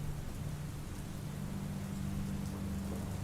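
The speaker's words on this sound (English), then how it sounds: "The rain was coming down in sheets, and the wind was howling through the trees" Heavy rain pours down with wind in a dense, unbroken hiss and a low steady roar, loud and constant with no voices.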